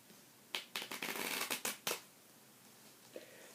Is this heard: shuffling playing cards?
yes